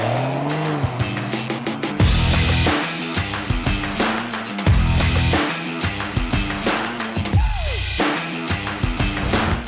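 A 2021 Mercedes-AMG E 53 is driven hard on tarmac, the engine surging and dropping through repeated gear changes while tires squeal in short bursts, loud and close throughout.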